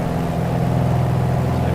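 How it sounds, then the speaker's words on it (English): A Piper Arrow piston engine in Microsoft Flight Simulator drones steadily as the throttle is eased back, a loud, even low hum that holds through the whole short stretch. "Now we'll bring the throttle back down, and the governor should increase the RPM back to 2000."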